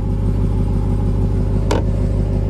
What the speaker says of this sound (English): this exhaust is menacing